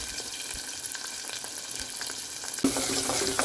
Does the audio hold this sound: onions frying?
yes